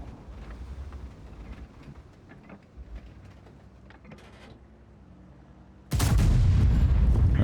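A tank's main gun fires a single sudden, loud blast in a tank video game, breaking through low engine rumble and mechanical ambience near the end.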